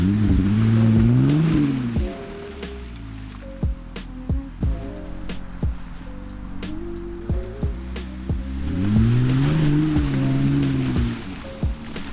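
A Jeep Grand Cherokee drives through snow, its engine rising and falling at a moderate distance, with muffled crunching and thumps from the tires on packed snow and a steady hiss beneath.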